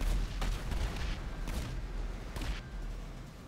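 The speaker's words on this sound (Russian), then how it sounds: "Просто взрыв за взрывом идет." A series of game explosions in GTA 5 at a subway station crowded with cars: several dull booms spaced about a second apart over a low continuous rumble, moderately distant.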